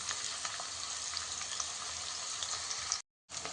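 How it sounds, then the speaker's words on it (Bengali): Onion frying in hot oil with whole spices, a steady close crackling sizzle that runs on evenly, cuts out briefly near the end, then resumes; no one speaks. "এবার পেঁয়াজটা দিয়ে একটু ভেজে নেব।"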